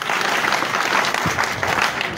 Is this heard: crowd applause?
yes